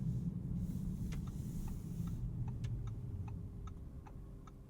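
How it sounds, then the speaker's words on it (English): Steady, crisp clicks of a 2023 Audi S6 turn signal ticking at an even pace over a low, constant cabin rumble. "And for the turn signal sound"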